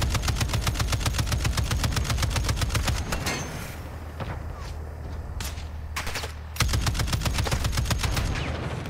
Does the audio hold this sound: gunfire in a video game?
yes